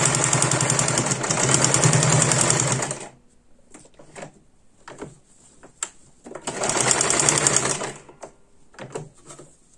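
A sewing machine stitching patchwork quilt fabric, running in two loud, steady whirring bursts of about three seconds each, separated by quiet handling clicks and light taps.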